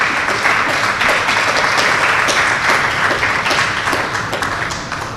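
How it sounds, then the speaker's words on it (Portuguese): An audience applauds at a school teaching-day event, a loud, dense wash of clapping from many hands that holds steady and then slowly tapers toward the end. "bini dilante aplauso para Nayoka"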